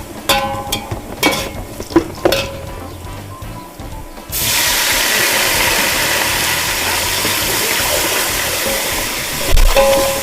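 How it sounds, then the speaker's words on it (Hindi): Water poured into browned onions in a pot while making camel-meat nalli pulao, hitting the hot pan with a sudden loud, steady hiss and sizzle that follows a few scattered clinks and stirring sounds. "अभी इसमें थोड़ा हम पानी शामिल करेंगे"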